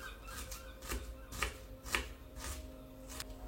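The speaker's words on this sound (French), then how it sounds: "il ne vous reste plus qu'à hacher les oignons" Steady knife chopping of onions on a board, a series of evenly spaced, close taps roughly every half second, moderately loud with no voices.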